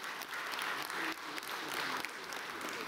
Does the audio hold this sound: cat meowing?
no